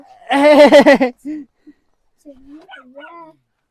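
A dog barks and whimpers near a cave, a loud burst of rapid yelping followed by a couple of short whines, then people talk quietly.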